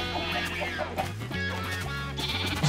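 Several Minecraft sheep bleat in overlapping, wobbly cries, loud and close, repeating over a steady game background.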